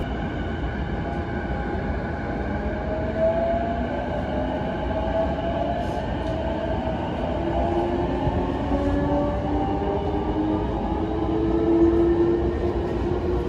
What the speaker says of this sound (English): Today we're going to be checking out the JR East E233 Series trains in Tokyo